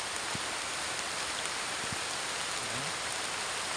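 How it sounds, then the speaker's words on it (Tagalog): Heavy rain pours in a dense, steady hiss, constant and loud throughout with a few faint thumps underneath. "Lalakas mo ng ulan tol."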